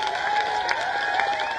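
A large crowd at a Telangana election political rally cheers and claps in a sustained, loud swell of voices and applause.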